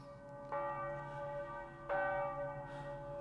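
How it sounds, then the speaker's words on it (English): A church bell tolls twice at an unhurried pace, each strike ringing out with a long sustained hum that carries into the next, fairly distant and alone. "The bell invites me."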